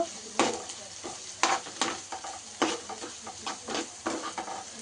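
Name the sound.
onion frying in a pan for egg rice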